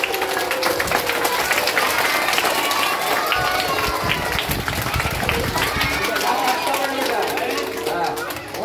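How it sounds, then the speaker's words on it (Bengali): A group of children and adults claps at a school birthday celebration, a dense, close burst of applause mixed with excited chatter and voices throughout. "চলো, জোরে হাততালি।"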